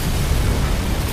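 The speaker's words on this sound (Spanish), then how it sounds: "Habilidad de invocación, explosión ígnea." A dense, sustained rumbling blast with heavy low-end roar, steady and loud throughout: a fiery explosion summon ability in Final Fantasy 7 Remake.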